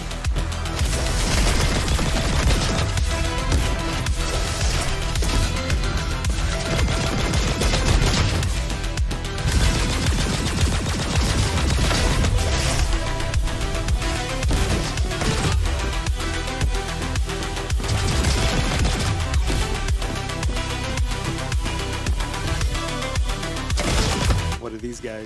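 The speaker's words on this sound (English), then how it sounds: "I love the sound this gun makes." Rapid gunfire in a fast-paced shooter game, dense volleys of loud shots rattling almost nonstop with brief pauses, mixed with crashes and booms.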